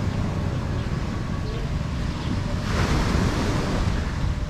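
Ocean surf at high tide along Alona Beach in Panglao, Bohol, with water close to a beachside walkway: a continuous loud wash of waves mixed with wind rumble on the microphone, swelling slightly near the end.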